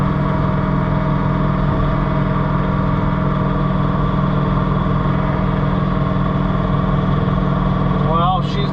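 A John Deere 3046R compact tractor runs steadily while blowing snow, its engine droning evenly and loudly throughout with a constant mechanical hum, and a brief whine near the end.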